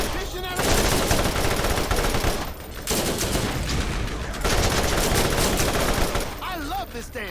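Rapid automatic turret fire from a Scorpio turret in the video game Borderlands, loud and sustained in long bursts with brief pauses between them.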